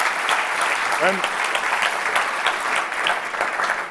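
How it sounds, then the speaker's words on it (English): An audience at a stand-up comedy show applauds a volunteer walking to the stage, with steady, even clapping that fills the whole stretch and a brief voice near the start. "Please give Philip a round of applause as he comes to the stage."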